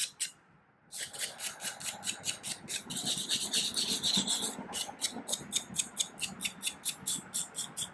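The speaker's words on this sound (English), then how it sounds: "I have a brass bristle brush. I'm just going over the workpiece with, clean a little bit of that scale off." Rapid, rhythmic scraping of a brass bristle brush scrubbing scale off a metal watch dial, close and crisp, in quick back-and-forth strokes after a brief quiet start.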